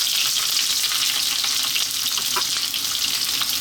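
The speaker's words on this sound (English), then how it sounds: "So first we're going to drop in our onions." Onions hiss and crackle as they land in hot sunflower oil for a Chinese chicken and vegetable stir-fry, a loud, dense, continuous sizzle close by with no voices.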